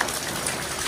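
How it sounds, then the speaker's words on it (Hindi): Light rain falling steadily in a hilly area during the monsoon, a soft continuous patter of drops on surfaces, close and even throughout with no voices. "पहाड़ में भी हल्का हल्का बारिश हो रही है"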